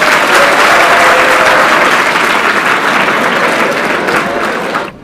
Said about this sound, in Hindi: एक जोरदार तालियों से स्वागत करें।